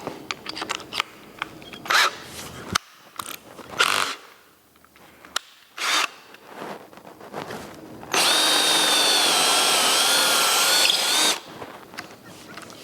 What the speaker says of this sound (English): Now we'll open it up to 7/8.